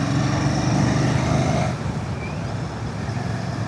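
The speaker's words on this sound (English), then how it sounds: "Just that addictive engine note." A Royal Enfield Classic 650 twin thrums steadily while being ridden on UK roads, a continuous mid-pitched engine drone over wind rush that eases down partway through.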